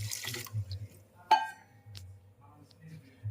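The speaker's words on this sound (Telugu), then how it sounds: "ఇది మునిగే వరకు వాటర్ వేద్దాం" Water runs into a pan for thin sugar syrup while making gulab jamun, a short splashy trickle near the start followed by sparse drips and light clinks in a quiet kitchen, with a faint voice at times.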